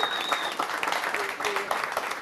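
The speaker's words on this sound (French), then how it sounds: "On peut applaudir Kako Art" A crowd claps steadily in brisk applause, with a voice speaking over the clapping.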